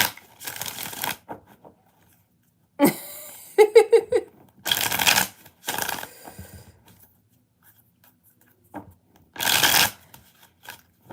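Tarot cards being shuffled in several separate bursts, a quick riffle with clicking, then pauses of near silence between each shuffle.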